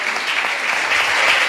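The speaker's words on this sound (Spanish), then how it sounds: "dale un aplauso al Señor" A church congregation breaks into loud, steady applause during a sermon, dense clapping from many people filling the whole moment without pause.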